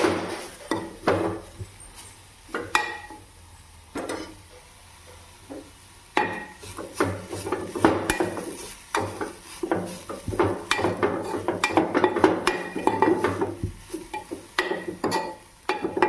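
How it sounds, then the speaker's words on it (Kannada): Carrots frying in a pan over a low gas flame, stirred steadily: soft sizzle beneath frequent metallic scrapes and clinks that grow busier midway, with no voices. "ಗ್ಯಾಸ್ನ ಲೋ ಫ್ಲೇಮಲ್ಲೇ ಇಟ್ಟಿರಬೇಕು. ಈಗ ನೀಟಾಗಿ ಫ್ರೈ ಮಾಡ್ತೀನಿ."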